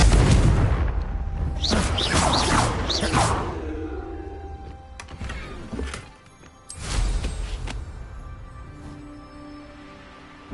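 Confringo fire spell blasts in Hogwarts Legacy burst out as loud whooshing booms, a cluster of crackling blasts early on, then a second eruption after a brief lull, with faint ringing tones lingering between.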